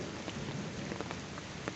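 Steady rain falls outdoors with a constant close hiss and scattered drop taps throughout. No one speaks.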